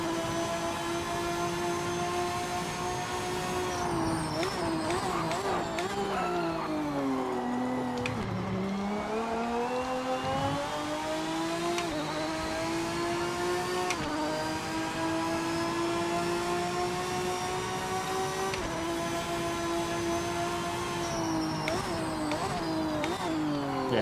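A GT4 race car's engine drones steadily in the racing video game Project Motor Racing, its pitch climbing and dropping through gear changes and revs, loud and continuous throughout.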